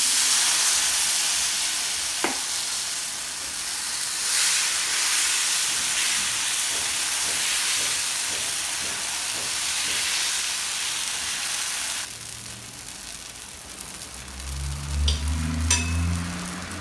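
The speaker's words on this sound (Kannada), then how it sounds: "ಆದಷ್ಟು ನೀವು ದೋಸೆ ಹಾಕಬೇಕಾದ್ರೆ ಚೆನ್ನಾಗಿ ಕಾದಿರೋ ತಾ ಕಾವಲಿ ಮೇಲೆ ಹಾಕಿ" Dosa batter hisses and sizzles on a hot iron tawa, a steady frying hiss that fades partway through, followed by a few clinks and soft low thuds near the end.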